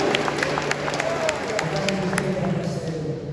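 A church congregation claps steadily, a dense patter of applause with a murmur of voices underneath, fairly close and sustained throughout.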